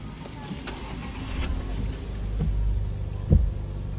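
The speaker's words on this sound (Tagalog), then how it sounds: "Sige, start mo, Edwin." A car engine turning over and catching after an alternator repair, a low rumble building under a brief burst near the end, with people talking nearby.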